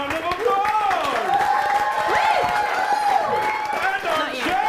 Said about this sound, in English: Next, our Guardians. Round of applause.